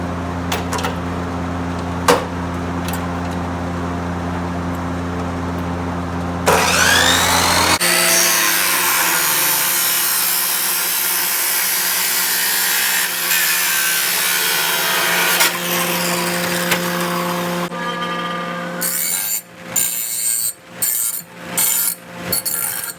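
A saw cuts through an intercooler pipe during a turbocharged LS 5.3 intercooler install: a long, steady rasping cut, then a few quick separate strokes at the end, loud and close, with no talk.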